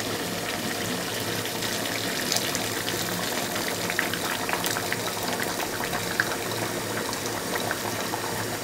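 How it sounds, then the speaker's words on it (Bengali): Hot water being added to duck meat cooking for a duck bhuna, a steady bubbling, gushing liquid sound that runs continuously at moderate level with no talking. "গরম পানি দিয়ে দিচ্ছি।"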